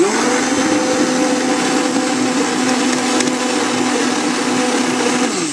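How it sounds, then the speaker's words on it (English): Stick blender whirring steadily under heavy load in a thick batch of homemade liquid soap, a continuous strained motor drone with no pauses and no talk. "My stick blender is starting to strain now."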